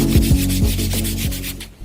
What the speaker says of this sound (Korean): 먼저 400방 사포로 표면을 갈아줍니다.